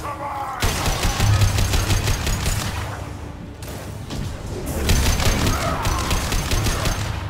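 Squad gunfire in the video game Mass Effect 2: loud, rapid automatic bursts crackle in dense runs, pausing briefly before resuming in sustained volleys, with no talk over them.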